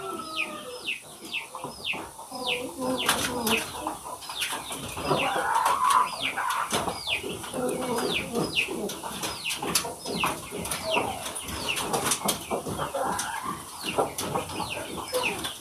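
Miko-breed chickens cluck and chatter continuously, with a rooster-like call and some wing flapping, amid a busy outdoor background.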